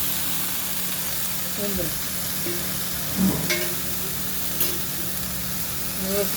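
Fig vegetable (umbar) sautéing in a pan gives a steady soft sizzle with a few faint stirring clicks, under occasional quiet talk.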